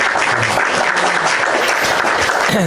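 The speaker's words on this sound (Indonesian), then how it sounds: "Tepuk tangan dulu kita." Steady applause from a crowd, dense continuous clapping at a loud level throughout with no talking.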